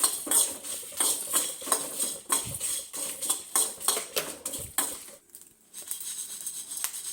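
Metal utensils clink and scrape against a pan and plate as fried chops are lifted out and moved onto a plate, in a run of rapid close taps with a short pause near the end.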